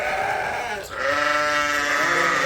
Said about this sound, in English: let's see if we can get some sheep out to pasture